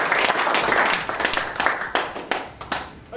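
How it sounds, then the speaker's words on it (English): Audience at an evening talk clapping in a round of applause, dense and fairly close at first, then thinning into scattered individual claps as it dies away. "can we give him a big round of applause"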